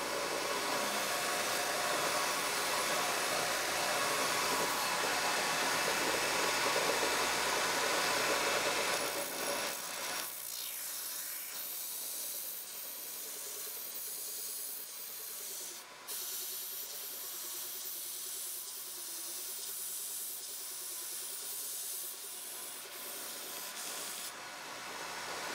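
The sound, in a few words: converted Jiffy belt sander running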